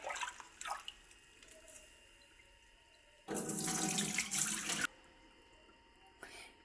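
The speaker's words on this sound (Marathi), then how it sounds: "आणि हे पाणी पण" Rinse water drains off soaked mung beans in one loud, splashing pour of about a second and a half, framed by quiet stretches with faint drips and small knocks.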